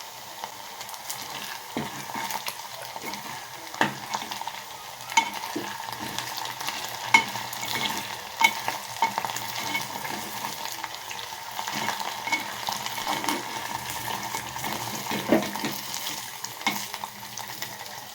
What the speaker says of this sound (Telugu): పకోడీలాగా ఇవైతే కొన్ని ఇక్కడ వేగుతున్నాయి